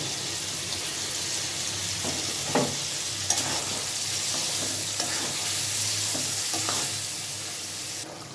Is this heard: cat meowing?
no